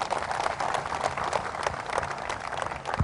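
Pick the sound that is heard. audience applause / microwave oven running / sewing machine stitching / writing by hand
audience applause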